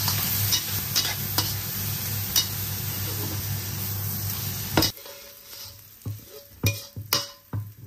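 Dried tofu and chili stir-fried in a hot pan, a steady close sizzle with repeated clacks of a spatula scraping and stirring, the frying dropping sharply partway through and continuing as quieter sizzling with a few louder scrapes.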